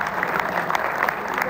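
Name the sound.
audience applause welcoming a guest poet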